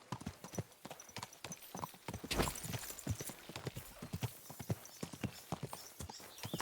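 Horse hooves clip-clop in a steady walking rhythm in Kingdom Come: Deliverance II, fairly close and clear, with a brief louder burst partway through and faint voices barely present.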